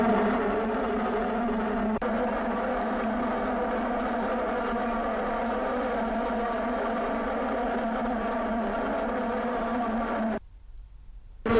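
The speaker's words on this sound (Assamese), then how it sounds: "মাইক লগাই বজোৱা হৈছে মৌ মাখিৰ গুণগুণনি শব্দ।" A recorded bee-buzzing sound plays from a loudspeaker at the ST-39 railway gate in Hojai, Assam, to keep wild elephants off the tracks. It is a continuous droning hum, even and steady, that cuts off suddenly near the end.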